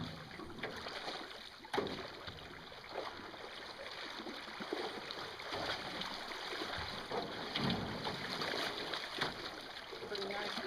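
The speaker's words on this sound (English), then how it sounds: "Pretty nice little rapid right there." A small river rapid runs steadily, a broad continuous rush of water close by with no letup, heard outdoors on a summer walk through the woods in Alabama.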